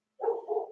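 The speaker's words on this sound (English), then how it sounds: "the neighbor's other dog will come out and start barking" A neighbor's dog gives a single short, mid-pitched bark or woof, close and fairly clear, with no talk.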